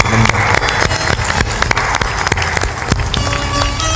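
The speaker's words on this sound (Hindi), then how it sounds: "सब लोग ताली बजाकर" An audience at a religious discourse event bursts into loud, dense applause, sharp claps continuing throughout, with background music underneath.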